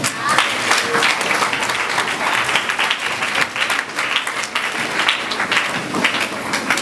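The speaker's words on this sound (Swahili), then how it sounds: "Piga makofi kwa Mungu" A church congregation applauds in praise of God, a dense, continuous wash of many hands clapping with a few voices mixed in, loud and sustained throughout.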